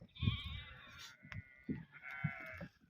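A herd of goats, including black goats, bleats outdoors on a farm, with several separate calls of varying length rising over a low rustling background, moderately distant and fairly faint, without any talking.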